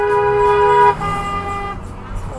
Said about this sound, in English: Other people are honking at him too.